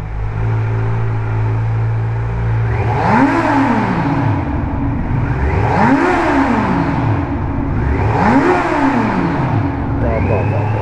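A Kawasaki Z900 inline-four motorcycle engine revs hard inside a tunnel, three rising and falling throttle blips in a steady rhythm, loud and close with booming tunnel reverberation and a low idle droning between pulses.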